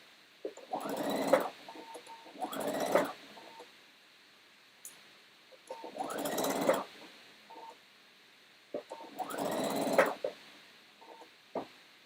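A sewing machine stitches around the edge of a garment in four short whirring bursts separated by pauses, close and clear, with a few faint clicks between runs.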